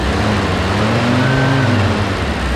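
A cold M151A2 military jeep engine runs loud and close, idling with a low rumble, then revs up with a slight hesitation before settling.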